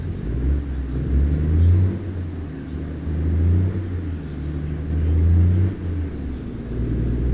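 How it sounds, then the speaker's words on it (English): An Eagle 9900i truck in American Truck Simulator runs with a steady, smooth low engine rumble, gently swelling and easing as it cruises with no talk over it. "Love the sound of the engine on this truck."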